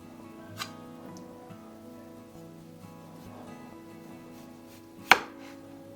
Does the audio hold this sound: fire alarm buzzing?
no